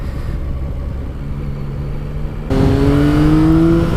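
Motorcycle engine held on the rev limiter at a standstill in the paddock, a steady loud buzzing drone that jumps sharply higher and louder halfway through, with no talking.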